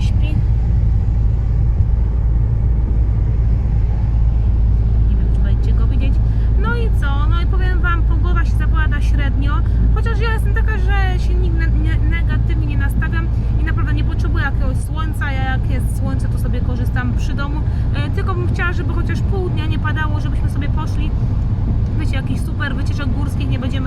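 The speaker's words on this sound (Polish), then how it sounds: "sorry za te podskoki, no ale auto tak akurat jedzie" A car drives along with its interior rumble, bumps and low road noise steady throughout, while someone talks over it almost continuously.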